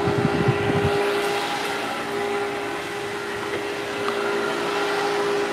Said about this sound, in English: I'm gonna change the nozzle on my force dryer also for his coat type.